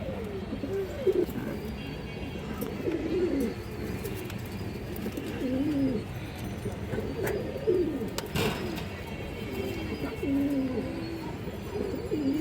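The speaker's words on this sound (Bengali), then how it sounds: "দেখেন দর্শক রানিং উড়ানো কবুতর" Domestic pigeons coo in steady, repeated low calls at close range, with soft rustling and a few clicks between the coos.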